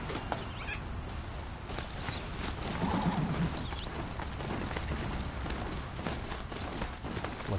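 Rhythmic hoofbeats of a horse galloping in Horizon Zero Dawn, a quick repeating clop under a steady game background, with a brief low animal call midway.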